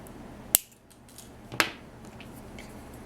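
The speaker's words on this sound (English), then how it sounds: "trim away the extra wire" Two sharp, close snips, about a second apart, as cutters trim excess wire from a polymer clay earring loop in a quiet room.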